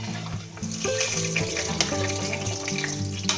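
Squash pieces drop into a hot cooking pot for Filipino utan bisaya vegetable soup, setting off a loud, steady sizzle with scattered clinks and stirring knocks.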